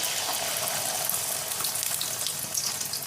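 An egg fries in hot oil, a continuous close hiss of sizzling that stays even throughout, with no voices.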